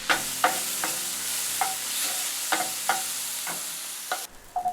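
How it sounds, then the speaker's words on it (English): Mushrooms with a pinch of salt frying in hot olive oil over high heat, with a steady sizzle under repeated scraping stirs of a utensil in the pan, close and fairly loud, ending with a few lighter knocks. "When the oil is hot, put the mushrooms and a pinch of salt."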